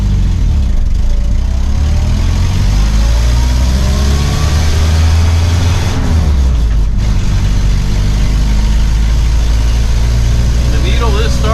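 A 1952 Willys Overland 4x4 truck runs, its engine rumbling loud and close with a steady low drone that swells and dips, while a voice talks over it.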